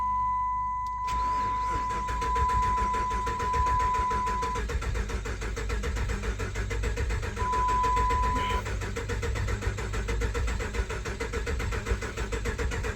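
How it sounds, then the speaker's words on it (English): A 5.7 Hemi engine on a test setup cranks steadily and repeatedly without catching, a loud continuous rhythmic churning lasting over ten seconds, with an electronic beep sounding near the start. "It'll crank, but it will not start."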